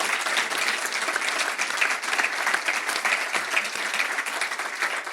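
An audience applauds three guests at the close of a talk, steady, dense clapping from many hands that holds evenly throughout with no break.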